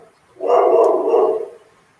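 An angry dog barks outdoors in a backyard area, one sustained burst of loud, harsh barking lasting about a second, heard alone without talk.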